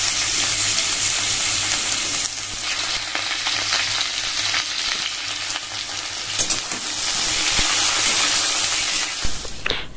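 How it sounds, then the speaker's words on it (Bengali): Potatoes frying in oil in a wok (kadai) for a vegetable curry, a steady loud sizzle with occasional stirring scrapes throughout. "এরপরে হচ্ছে দেখো কড়াইয়ে আলু দিয়ে দিয়েছি, আলুটাও একটু হালকা করে লাল লাল করে আর কি ভেজে নেব।"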